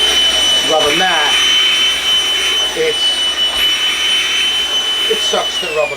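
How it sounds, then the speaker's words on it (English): A powerful Milwaukee vacuum cleaner running loudly and continuously, its high whine and rushing suction steady as it pulls at a rubber mat, with someone talking over it. "it sucks the rubber mat, but it's a very powerful vacuum"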